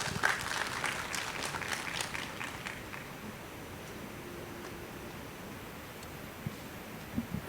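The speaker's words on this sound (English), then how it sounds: "Let's give her a round of applause as she come up." Audience applause in a school district's State of the District address as the next presenter walks up; loud broadband clapping at first, thinning and fading over several seconds into a quiet room.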